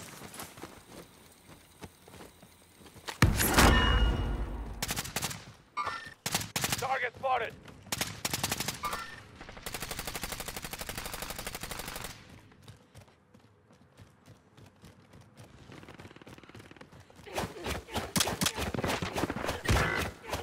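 Assault rifle bursts crack in Call of Duty: Modern Warfare multiplayer, with several rapid automatic volleys in separate clusters, loud and close, mixed with game sounds and in-game voice callouts.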